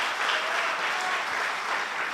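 A church congregation at a Sunday worship service claps together in a dense, sustained round of applause, steady and fairly loud for the whole moment.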